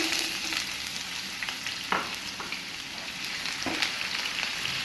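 Food frying in a pan for homemade chicken buns, a steady hiss with occasional stirring scrapes, moderately loud and close, no voices.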